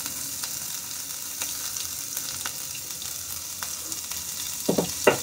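Crushed ginger and green chili hit hot oil with mustard seeds, making a continuous soft sizzle speckled with small crackles and pops, and a couple of louder spatters near the end.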